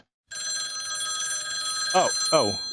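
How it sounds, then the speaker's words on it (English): A mobile phone rings indoors with a steady electronic trill lasting a few seconds, and a voice briefly cuts in near the end. "I've forgotten to mute my phone."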